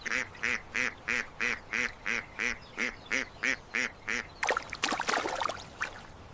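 A duck quacking in a steady series of about a dozen evenly spaced, nasal quacks, fairly close, followed by a burst of louder splashing or flapping noise.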